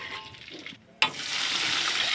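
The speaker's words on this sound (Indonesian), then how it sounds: "ini aku goreng cabai, bawang putih sama bawang merah" Chili, garlic and shallots frying in hot oil, starting with a soft sizzle, then a brief lull and a sudden loud burst of crackling that settles into steady sizzling, with no talking.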